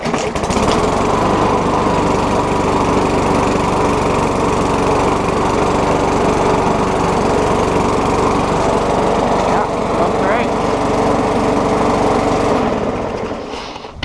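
A $20 pawn shop lawn mower's small engine runs after a tune-up, a loud steady drone that holds for many seconds before winding down at the end.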